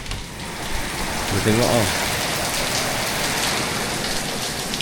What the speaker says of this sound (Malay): sekarang ni hujan yang sangat lebat dekat area Krabi ni